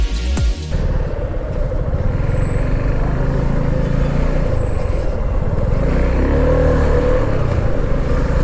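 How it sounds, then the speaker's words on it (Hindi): A Suzuki V-Strom 250 motorcycle is ridden roughly, its engine held at high, over-revved speed in a loud, continuous drone with road and wind rush and no pauses. "बहुत ही रफ चला रहा हूँ बहुत ही ओवर रेव कर रहा हूँ, बार बार गियर स्विच करना"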